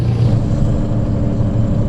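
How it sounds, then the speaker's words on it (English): A Scania T truck in Euro Truck Simulator 2 rumbles with a steady, loud, low engine-brake drone that holds evenly throughout. "It sounds more like the proper engine brake."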